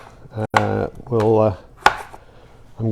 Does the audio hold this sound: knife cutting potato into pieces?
yes